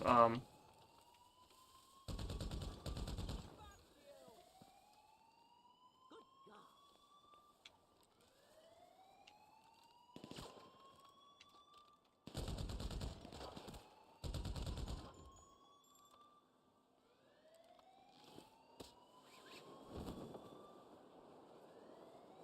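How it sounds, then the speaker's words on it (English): Guns firing from a rooftop in GTA Online, several separate bursts of rapid gunfire with sirens wailing and rising around them, fairly quiet overall. "These guns are great for the roof."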